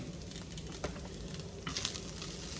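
Pork carnitas pieces sizzle steadily in a pan as they brown, a constant close frying hiss with a few brief louder crackles.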